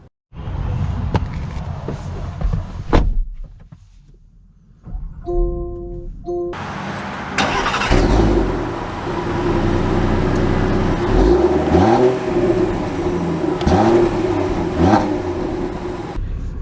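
A 2023 Land Rover Defender 130 X starts after a few chimes, then its engine settles into a loud, close idle that rises and falls in several rev swells, with no speech.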